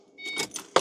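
Ignition key turned on a 2005-2006 Ford Mustang, a brief quiet jingle of keys followed by a sharp click at the end, close up and alone.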